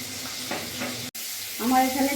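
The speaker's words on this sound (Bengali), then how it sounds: "কড়াই আমার গরম হয়ে গেছে। আমি এবার চিংড়ি মাছটা ছেড়ে দেবো।" Prawns frying in hot oil in a kadai, a steady close sizzle with a brief break before a brighter hiss returns as they settle in the pan.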